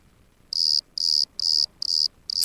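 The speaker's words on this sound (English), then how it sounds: "Yeah, more crickets." Cricket chirps sound in five evenly spaced bursts, each a bright, sustained shrill trill separated by short gaps of near silence, clear and alone with no voices.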